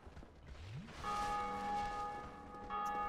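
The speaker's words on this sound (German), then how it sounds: "Die Glocken läuten" A bell rings out in Dark Souls Remastered, a single struck tone with long sustained ringing overtones that fade slowly, then a lighter second strike near the end, with no voices.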